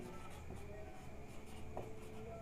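A pen writes out a physics problem on electric current in a circuit, making a faint, continuous scratching over a steady background hum.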